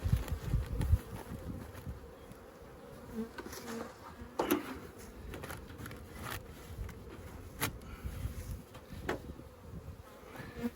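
Honeybees buzz around an early-spring hive being split into a new colony, a steady low drone with individual bees passing close now and then, loud against the background.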